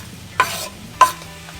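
Diced fruit flesh fries in a pan and is stirred twice, giving two short scraping swishes over a faint, quiet sizzle.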